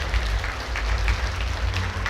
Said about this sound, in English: let's together give a big, warm round of applause for all of our speakers